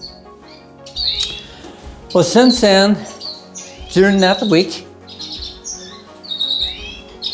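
Breeding canaries or similar cage birds twitter and chirp in a bird room in April breeding season, faint high calls running in the background beneath a man's close speech throughout.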